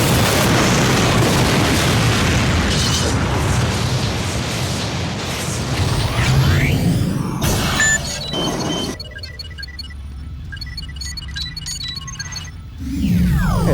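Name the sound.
visual effects explosion of Moscow blowing up, Stargate SG-1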